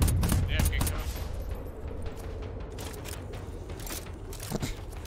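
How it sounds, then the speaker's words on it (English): Rapid bursts of enemy gunfire in the co-op shooter game GTFO, dense crackling volleys loudest at the start and again near the end, over a rumbling game background. "It's shooting us."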